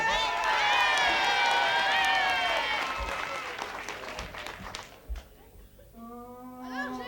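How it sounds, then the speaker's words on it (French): Applause and cheering from a crowd at a French local event, loud with excited shouts and children's voices, fading after a few seconds into quieter murmuring before singing voices start. "Allez, on applaudit un petit coup."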